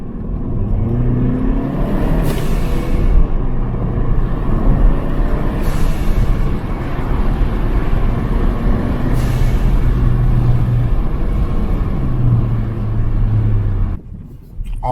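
Hyundai Sonata N Line fitted with a GFB Respons blow-off valve makes a drive-by pass. Loud, steady engine and road roar is broken by several sharp hissing bursts spaced a few seconds apart, and the noise cuts off at the end.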